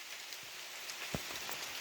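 Rain pours down steadily outdoors in a forest, a dense even hiss with a few heavier drops and thuds scattered through, no voices.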